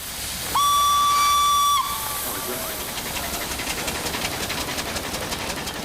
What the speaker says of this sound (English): the 1875 Grenville steam carriage, actually the oldest working road vehicle in the world